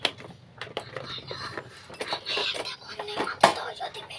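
Stainless steel lunch box parts clink and scrape as they are handled and separated, with light metallic taps and one sharper knock near the end, close and moderately quiet with faint breathy voice sounds.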